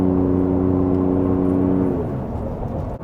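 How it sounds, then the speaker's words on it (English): A Ford F-150 with the 3.5 EcoBoost engine and AWE exhaust accelerates hard. A loud, steady engine drone with rising harmonics holds for about two seconds, then drops off as the revs settle. "I'm gonna accelerate right here and get through this light."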